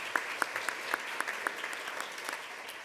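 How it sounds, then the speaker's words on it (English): Applause from an audience at a school board meeting honoring an absent elementary school staff member, with scattered sharp claps standing out over a steady patter, moderately distant and sustained throughout. "please give her a round of applause"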